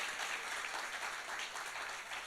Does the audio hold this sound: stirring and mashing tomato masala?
no